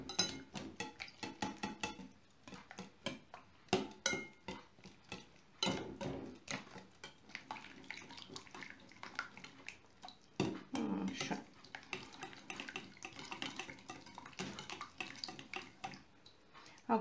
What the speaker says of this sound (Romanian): Și amestecăm acum toate ingredientele.